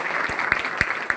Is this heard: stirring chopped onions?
no